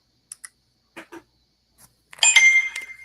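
Phone notification chime ringing out loud and close with a bright tonal ding that lingers, preceded by a few faint scattered clicks and taps in an otherwise quiet room.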